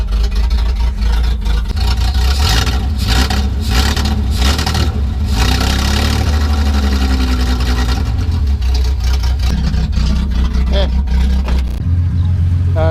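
A Datsun 240Z engine with carburetors being tuned and the header off revs repeatedly close by. Loud, rough bursts rise and fall over a constant mechanical clatter and rasp for the whole stretch.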